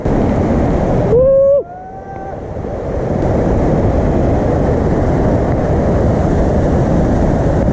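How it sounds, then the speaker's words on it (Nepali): A loud, steady rush of a river near Ghandruk, Nepal fills the scene, briefly interrupted early by a rising whistle-like tone before the roar resumes. "यो चाहिँ खोला है तलतिर"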